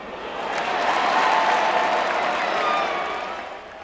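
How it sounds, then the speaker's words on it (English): A stage audience breaks into wild applause, a broad swell of clapping that builds, holds strongly, then tapers off, with faint crowd noise beneath. "The audience applauds wildly."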